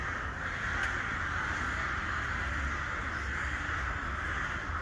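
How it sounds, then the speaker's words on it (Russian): Crows cawing on an evening walk in Volgograd, a steady, continuous clamor of many birds at middle distance with no voices. "Что-то вороны разгалделись-то там."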